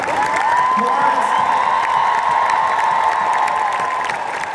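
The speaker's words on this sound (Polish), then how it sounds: "Jeszcze raz brawa, gromkie brawa!" A large audience gives loud, continuous applause mixed with cheering and a sustained whistle or whoop on top, the crowd noise holding steady and close for several seconds.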